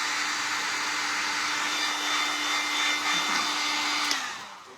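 A heat gun blows hot air onto plastic on a Christmas Santa tray, a steady, close, airy roar with a faint whine that runs unbroken before cutting off near the end.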